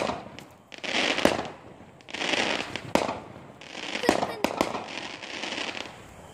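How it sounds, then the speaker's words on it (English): Fireworks are lit and go off outdoors, giving several sharp loud bangs and crackling bursts in irregular succession, some close together, while a person talks between and over them. "So, we're going to be lighting these fireworks. I know it's a little loud."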